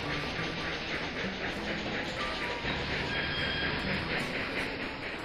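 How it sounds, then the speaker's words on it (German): Express train passing in the Railroad Tycoon 2 video game: a steady, dense rumble and clatter of rolling wagons that stays continuous and close throughout. "Ja, das ist gut, dass jetzt mein Zug hier durchgelassen wird"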